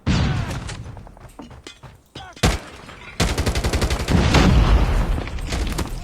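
A flashbang grenade going off in a multiplayer shooter video game: sharp loud blasts among rapid bursts of gunfire, with the firing swelling into dense near volleys toward the end.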